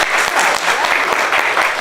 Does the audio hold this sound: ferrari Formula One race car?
no